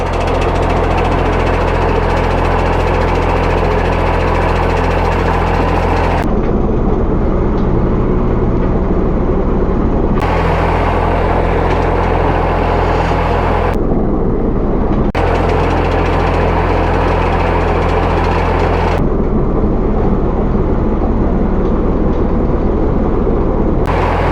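A John Deere Z994R 25HP diesel zero-turn mower climbing over a curb, its loud, steady diesel engine droning up close throughout, with load shifts in the rumble as it grips and climbs.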